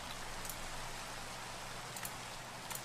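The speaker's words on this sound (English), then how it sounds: "Then unfortunately it started to rain, so I needed to really get back into my house." Steady rain falls in Minecraft, a soft, even hiss of drops with no other sounds, faint and continuous throughout.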